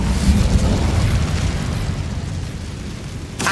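An Incendio fire spell blast in the Hogwarts Legacy video game, a loud, deep roaring burst that gradually fades, followed by a sharp crackle at the very end.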